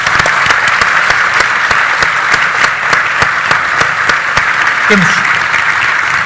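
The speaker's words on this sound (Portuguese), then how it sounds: "acho que merece umas palmas" Steady, loud applause from a large audience fills the whole stretch, dense and continuous, with a brief voice-like sound near the end.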